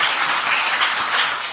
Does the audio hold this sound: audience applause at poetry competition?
yes